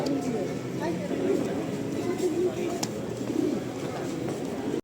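Pigeons coo steadily in low, throaty rolls, several birds overlapping at close range at a pigeon judging competition, with faint background chatter.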